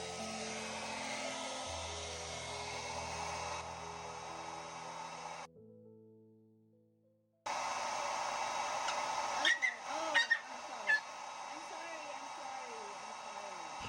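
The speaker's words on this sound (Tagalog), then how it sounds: "Na-distract natin siya sa blower." Hair dryer used as a blower on a dog named Kisses to dry an antiseptic-treated wound: a steady whooshing drone runs through the first stretch, cuts out briefly, then returns alongside chirpy, whimpering sounds and voices.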